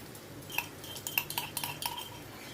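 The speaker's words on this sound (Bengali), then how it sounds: "ছোটো হামালদিস্তা থেকে সম্পূর্ণ মশলাটা আমি দিয়ে দিচ্ছি।" Crushed spice paste is scraped from a small mortar into a pan of frying onions, with a run of light metallic taps and clinks over a soft background hiss.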